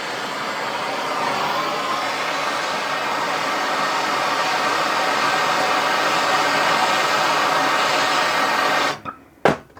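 A heat gun blowing hot air onto an aluminium throttle body to free its bearings, a loud steady roaring hiss held for about nine seconds before cutting off with a couple of clicks.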